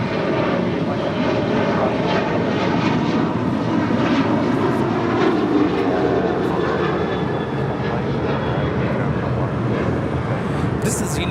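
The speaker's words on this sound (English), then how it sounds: "1366 departing to Houston Intercontinental on a 737-900ER" At LAX, a United Airlines Boeing 737-900ER bound for Houston Intercontinental climbs out with a sustained, loud jet engine roar and a sweeping whine, with voices faintly audible underneath.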